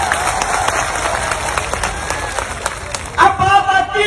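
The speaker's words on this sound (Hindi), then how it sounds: "एक बार जोरदार ताली बजानी तो इनके लिए बताओ।" Steady crowd clapping fills a large outdoor mahapanchayat rally in Alwar, loud and continuous, before a voice cuts in near the end.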